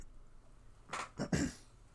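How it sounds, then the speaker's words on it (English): A person clears their throat in a few short, rasping bursts close to the microphone, quiet overall and with no speech. "to that one guy who said I should clear my throat less"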